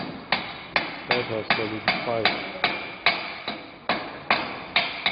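A chipping hammer knocks slag off a fresh arc weld in a steady series of sharp metallic strikes, about two per second and close up, while someone speaks briefly.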